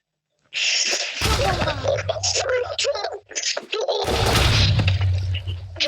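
Loud booming blasts from a bomb in a video game, two heavy bursts each followed by a sustained rumble and crashing clutter, with a voice talking and exclaiming over the noise.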